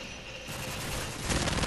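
Rapid bursts of gunfire from a video game crackle continuously, dense and sharp, growing louder toward the end with no talking.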